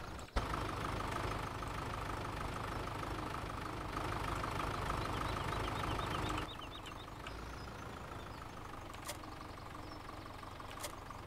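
Tractor engine idling in Farming Simulator 17, a steady low rumbling drone that drops slightly in level partway through and continues quietly with faint clicks.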